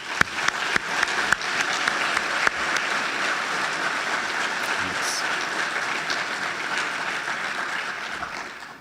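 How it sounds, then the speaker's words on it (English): A crowd at a fire academy graduation ceremony applauds steadily, the clapping holding strong for several seconds before tapering off slightly; a voice briefly speaks near the start. "So let's give them a round of applause, please."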